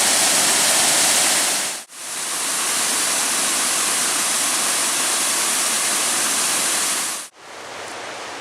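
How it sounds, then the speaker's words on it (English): Devil's Kettle waterfall on the Superior Hiking Trail roars as a loud, steady rush of falling water from near the top of the falls, broken by two brief cuts. "this is another view from top of the falls"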